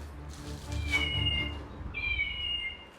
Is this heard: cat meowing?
yes